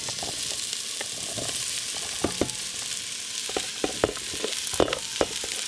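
Vegetables sauté with browned onions and garlic in a pan, giving a steady close sizzle punctuated by sharp clicks and scrapes of a utensil against the pan, with no talking.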